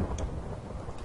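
Minecraft thunderstorm with a dense, rumbling wash of rain and low thunder, fairly loud and continuous with faint crackles on top.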